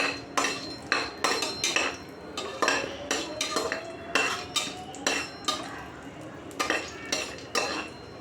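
Biryani spices being stirred in a cooking pot with a metal spoon, repeated scraping clinks in a steady rhythm over faint sizzling oil, close by.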